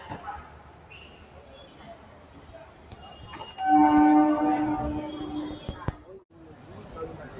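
A train sounds its long, loud horn for a couple of seconds amid rail noise at Mumbai Central railway station, with a voice heard nearby.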